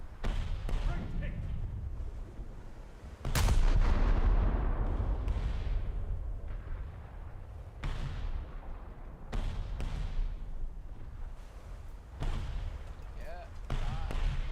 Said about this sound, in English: Oh my gosh, I'm firing so many missiles!